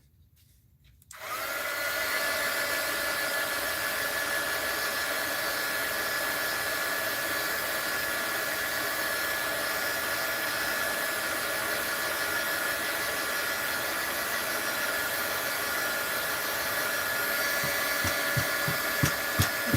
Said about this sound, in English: let's hit this with the heat gun